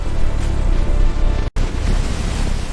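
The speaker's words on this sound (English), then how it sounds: "Water rushed into the familiar tunnels, turning safe paths into deadly, churning rivers." Floodwater surges through narrow ant tunnels in a storm, a loud, dense, churning rush of water that breaks off for an instant partway through and then returns just as strong.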